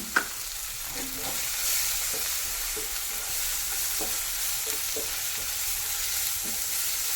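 Chili powder and turmeric sizzle in a hot pan under steady stirring, a continuous frying hiss broken by soft scraping strokes throughout, with no voices.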